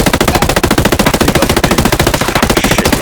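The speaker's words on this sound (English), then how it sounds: "Hostiles are shooting." Rapid automatic gunfire in the video game Ghost Recon Breakpoint, a loud, close, continuous burst of evenly spaced shots with no talk over it.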